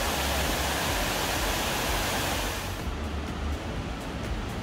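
Loud, steady roar of water rushing through the Taubenloch Gorge near Biel, filling the air, easing slightly partway through but continuing without pause.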